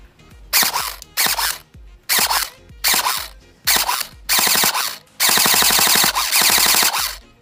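A homemade airsoft gun built from spare parts fires in loud, rapid full-auto bursts, several short strings and then a long sustained volley, with brief quiet gaps between them.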